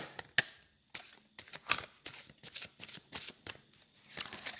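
A deck of oracle cards being shuffled by hand, with quick rhythmic bursts of riffling and tapping separated by short pauses, close and clear with no talking over it.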